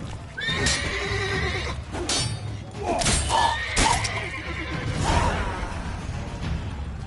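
Horses in the video game The Witcher 3: Blood and Wine neigh loudly and whinny, with clip-clopping hooves and swishing movement nearby, and some voices mixed in.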